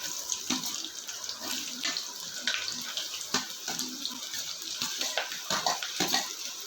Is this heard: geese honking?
no